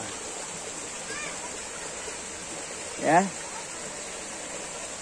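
A river beside a rice-pounding shelter flows over natural stones with a steady, soft rushing hiss; a single brief voice cuts in midway.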